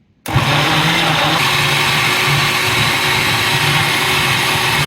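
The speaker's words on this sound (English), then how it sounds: "Now time for us to blend." A countertop blender whirs steadily through vegetables for a vegan stew, a loud, continuous motor drone starting abruptly and running unbroken for several seconds with no talking.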